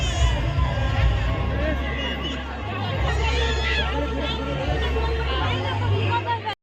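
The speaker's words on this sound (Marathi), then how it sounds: "मंदिरात आलोय पण खूप गर्दी आहे." A dense crowd packs a busy village temple during a fair, with steady overlapping chatter and hubbub and scattered shouts, close and continuous throughout.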